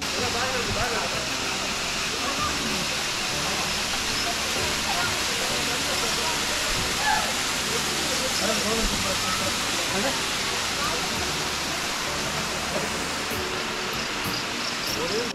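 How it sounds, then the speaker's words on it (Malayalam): Iruppu waterfall in Kerala roars as a constant, full rush of falling water close by. Voices murmur faintly beneath the steady flow. "ഇതാണ് ഇരിപ്പു വാട്ടർഫോൾസ്."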